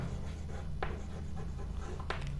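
Faint pen strokes on paper while drawing perpendicular lines for a geometry construction, a couple of brief scratchy marks over a low steady background hum.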